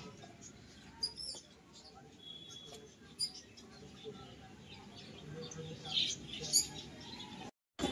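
Pigeons and other birds in an aviary give faint, scattered chirps and squeaks over a low background hum, with a few louder high calls near the end.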